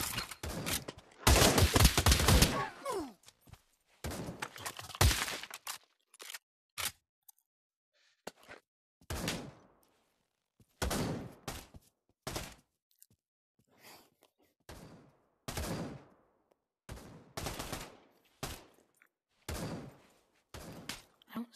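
Gunfire in the VR shooter Pavlov, with bursts of rapid automatic shots followed by a string of separate sharp single reports spaced a second or two apart, loud and close, without talking.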